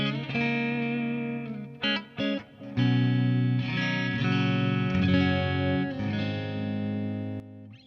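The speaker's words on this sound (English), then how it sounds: "Which is the clean channel of the AMP1 with the reverb engaged and the effects loop engaged for the flashback." An electric guitar through the AMP1's clean channel with reverb and a Flashback delay plays sustained chords and single notes, ringing clearly with echoing tails, alone with no talk.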